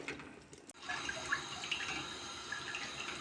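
Strained tarhana soup pouring steadily into a pot, a continuous splashing trickle with faint kitchen clatter, close by.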